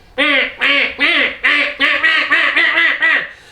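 Mallard ducks quack loudly in a rapid run of about nine harsh, nasal calls, evenly paced and close, each call rising and falling in a raspy, laughing rhythm.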